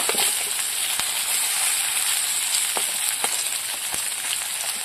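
Fish frying in hot oil, a steady dense sizzle and hiss throughout, close and fairly loud, with a few sharp crackles and pops standing out from the continuous bubbling.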